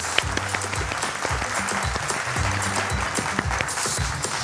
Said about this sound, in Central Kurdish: یەک چەپڵەی زۆر بەهێز